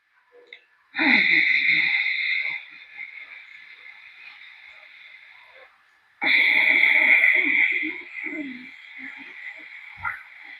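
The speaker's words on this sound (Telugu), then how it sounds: "గురక లాంటి శబ్దం చేస్తూ, అంటే ఓషానిక్ బ్రెత్ అంటారు" Ujjayi, or oceanic breathing, in pranayama practice: two long, snore-like throat breaths, each a loud rushing hiss that trails off, close and alone with a pause between them.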